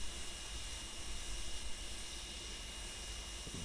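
Steam hisses from the open cylinder cocks of a Western Maryland I-2 2-10-0 Decapod steam locomotive in Train Simulator Classic. The hiss is steady, broad and fairly quiet, continuous throughout with no voices.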